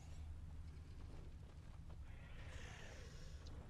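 Horses neighing in the video game The Witcher 3, a whinny rising over a steady low rumble of ambient game sound, moderately loud and without speech.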